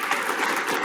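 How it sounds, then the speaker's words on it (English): Brief burst of crowd applause from a live audience at a studio-business talk, dense steady clapping close and full throughout. "Please give him a round of applause."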